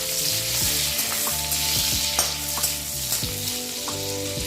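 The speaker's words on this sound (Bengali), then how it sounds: "আলুটা আমার ভাজা হয়ে গেছে আমি এখন তুলে নিচ্ছি" Potatoes sizzle loudly in a pan of hot oil, a steady bubbling hiss punctuated by several sharp scraping clicks as a utensil turns and lifts them.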